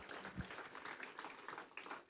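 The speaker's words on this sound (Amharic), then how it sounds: "እስቲ አንድ ጊዜ ለእግዚአብሔር ክብር አጨብጭቡልኝ።" A church congregation at an Easter service applauds for God, a continuous, fairly faint patter of many hands clapping together in a room.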